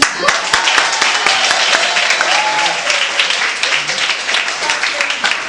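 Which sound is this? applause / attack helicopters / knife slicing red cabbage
applause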